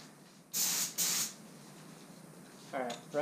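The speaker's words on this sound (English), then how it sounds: "I'm going to spray the rest of the thing." An LVLP paint spray gun set around 25 PSI gives two short, loud bursts of hissing spray close by, followed by quiet and a brief voice at the end.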